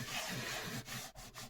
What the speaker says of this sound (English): I'm gonna just buff over it now